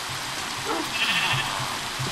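Blocky sheep bleats from the Minecraft video game, several short repeated calls over a steady background hum, fairly loud and close with no talk.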